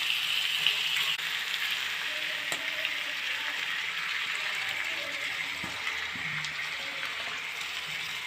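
Large chicken pieces fry with onions in a pan, giving a steady, loud sizzle and crackle throughout, with occasional stirring clinks and no talking.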